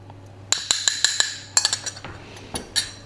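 A spoon stirs a salmon mixture for sushi bake in a bowl, giving a series of sharp, bright clinks against the bowl, irregularly spaced, some clustered quickly, close and clear over a faint low hum.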